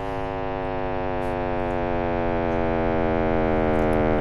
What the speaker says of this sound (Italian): si è riusciti a riprodurre il suono del Big Bang.